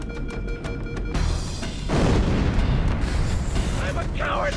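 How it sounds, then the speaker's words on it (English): Explosions in the Halo: Combat Evolved video game, heavy booming blasts rolling one into another with dense rumbling debris and gunfire, loud and continuous, with voices faintly mixed beneath. "people dying with lots of explosions going off everywhere"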